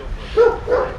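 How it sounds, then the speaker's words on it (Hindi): Dog in a Russian village giving two short barks in quick succession, fairly close and clear over light background noise. "अरे ये तो हिंदी में भौंक रहा है।"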